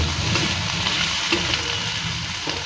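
Tomatoes, green chillies and ginger-garlic paste fry in a pan for a ladyfinger and potato curry, a steady loud sizzle with the scrape of stirring running throughout and no talk.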